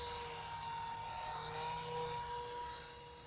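An RC model plane flies at about one-third throttle, its steady motor whine holding a constant pitch with a slight swell midway before fading a little as it moves off.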